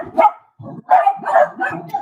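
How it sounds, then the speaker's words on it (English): Dogs bark close by in a home, several loud gruff barks and yips in a rapid irregular burst. "Sorry about the dogs."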